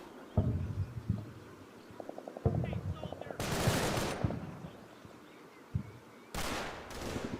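MG 42 machine gun fire in the Normandy combat video game Combat Mission, heard as loud broadband bursts, a long burst in the middle and another near the end, among scattered thumps and faint rattling.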